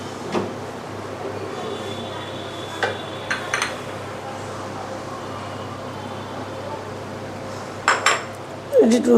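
Spoon scraping and clinking against a pot while stirring and pressing morog pulao rice after rose water is sprinkled in, with scattered metallic taps, a louder cluster of clatter near the end, and steady low kitchen background.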